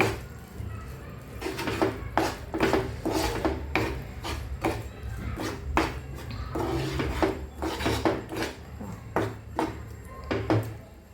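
Peanut powder being stirred by hand into a sesame and jaggery laddu mixture in a pot, giving repeated scraping and rubbing strokes in an irregular rhythm, close and fairly loud.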